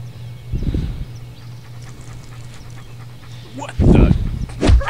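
Dog in the video game Postal 2 giving a few short barks and yelps near the end, after a low steady hum; a voice speaks over part of it.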